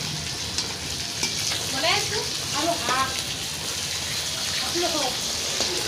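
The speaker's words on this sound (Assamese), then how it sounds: "এয়া মাছ ভাজি আছে" Fish fries in a pan with a steady, fairly loud sizzle and crackle, and voices talk faintly in the background at a Durga Puja outing in Guwahati.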